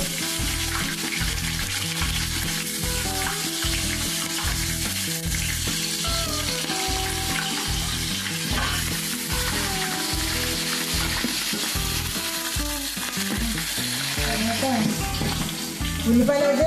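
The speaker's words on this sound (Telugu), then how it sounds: "ఉల్లిపాయలు అయితే చక్కగా బాగా వేగాలండి. వేగుతా ఉన్నాయి." Onions frying in a pan at home, a loud continuous close sizzle running throughout, with background music and occasional clinks over it.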